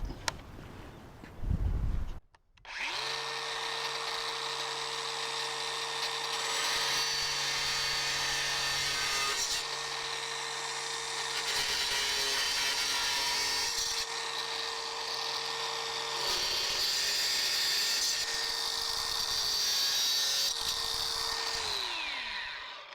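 A DeWalt FlexVolt DCG418 angle grinder cutting through material, a loud, close, sustained high whine lasting about twenty seconds with slight dips as it bites, after a brief clunk at the start.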